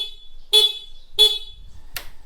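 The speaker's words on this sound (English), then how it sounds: "What does the horn sound like?" Two short, loud beeps from the horn of an MV Agusta Turismo Veloce 800 Lusso motorcycle, heard up close with a brief click after them.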